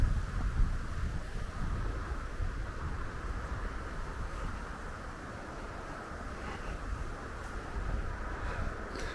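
On a sunny autumn day in Finland, beside old industrial train tracks, wind buffets the microphone in a constant low rumble that rises and eases slightly, with no talking.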